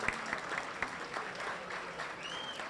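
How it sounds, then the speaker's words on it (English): A crowd claps steadily at a high school athletic banquet, a dense, even patter of hands that holds at moderate volume throughout. "So a round of applause for these group of guys."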